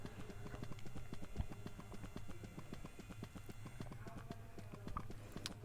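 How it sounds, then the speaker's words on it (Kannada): A horse gallops in the mobile shooter game Free Fire, with a steady, rapid clip-clop of hooves that sounds quite faint. Faint game sounds play underneath. "ಕುದುರೆ ಓಡು"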